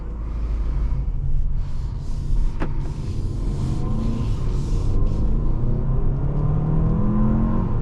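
A 2025 Hyundai Santa Fe Calligraphy in sport mode accelerating, with steady low engine rumble and road noise heard from inside the cabin, continuous and fairly loud, with no talking.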